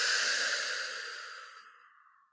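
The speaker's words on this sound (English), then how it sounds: "breathe in again. Another great big filling breath" A deep breath is exhaled slowly, a single long airy sigh that starts strong and fades away over about two seconds, close and alone.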